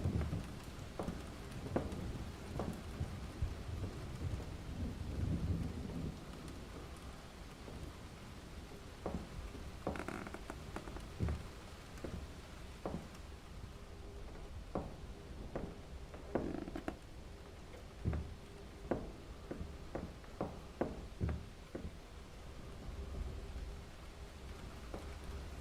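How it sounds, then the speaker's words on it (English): Rain patters continuously in a horror video game, with soft thunder rumbling and scattered drips and ticks throughout, all low and steady with no talking. "I love the sound of the rain in the background."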